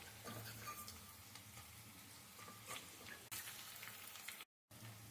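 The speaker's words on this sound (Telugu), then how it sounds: "ఇదంతా ఒక్కసారి ఇలా కలుపుకొని వేయించుకోండి, మాడకుండా వేయించుకోండి" A tempering of dried red chillies and curry leaves fries in hot oil for prasadam, giving a faint, steady sizzle with light stirring and a brief dropout near the end.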